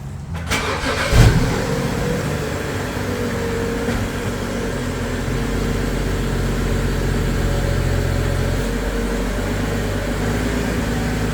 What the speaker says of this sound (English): Let's go ahead and drive up.